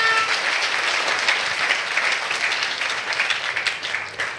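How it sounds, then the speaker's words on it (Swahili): A church congregation claps their hands for Jesus, a loud, continuous wash of applause that holds steady for several seconds before easing slightly. "I don't know why aren't you clapping your hands for Jesus."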